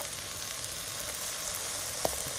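Pancake batter studded with raspberries fries in a hot pan, giving a steady, close, even sizzle with no talk and one brief soft tap near the end.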